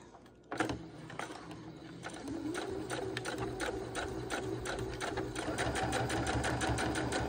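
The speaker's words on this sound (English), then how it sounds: "we're sewing a second line of stitching around the edge to keep it stronger" A sewing machine runs steadily, stitching a second line around the edge of a scrappy fabric heart pillow, its needle tapping in a fast, even rhythm after a short start, close and alone without talk.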